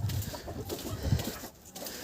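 Farm chickens cluck and murmur close by while being fed a wet mash, with soft, overlapping calls from the flock and no talk.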